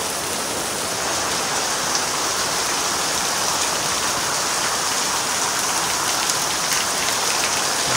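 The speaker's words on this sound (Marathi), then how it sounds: "छान पाऊस आला खाली." Heavy rain pours down in the Konkan countryside, a dense, even hiss of drops on surfaces that stays steady and loud throughout, with no voices.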